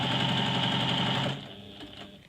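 A sewing machine stitches a quilt strip with a quarter-inch seam, running at a rapid, even whir close by for just over a second before it stops and drops to a faint mechanical hum.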